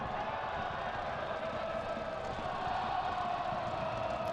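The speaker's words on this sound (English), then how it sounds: "Crowd still singing, giving them plenty of support, Fresno." Fresno FC supporters singing and chanting in a stadium during a soccer match against El Paso Locomotive FC, a steady dense roar of crowd voices carrying on without a break.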